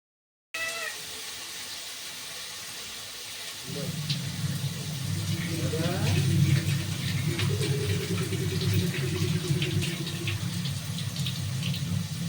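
After a short stretch of quiet, tap water starts running and pours steadily into a container, a full, rushing stream that continues to the end.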